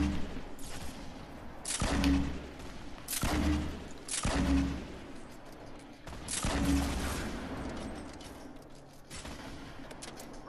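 Gunfire in the Fortnite Battle Royale video game, several loud bursts of shots at irregular intervals over steady game ambience, with no talk in between.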